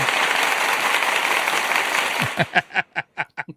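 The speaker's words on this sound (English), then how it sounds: "I do have an applause here." A played applause sound effect: a crowd clapping and cheering rises and holds, then cuts into a few separate, sharp claps spaced across the final second.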